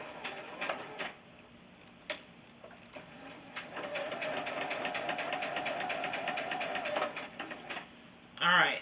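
A sewing machine stitches a nine patch quilt block, a rapid mechanical whirring run lasting a few seconds, preceded by scattered clicks and handling noises, with brief talk nearby.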